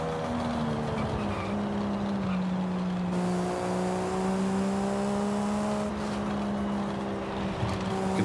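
A twin-turbo car engine in Forza Horizon 5 revs and holds a loud, steady drone with a turbo spooling up, rising and settling through shifts in pitch over several seconds, with no talking.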